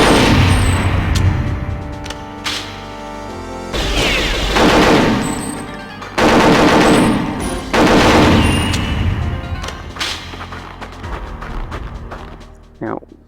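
Automatic gunfire from the video game Perfect Dark against unshielded enemies, with repeated loud bursts of rapid shots separated by short pauses and mechanical clatter, continuing over background game sounds.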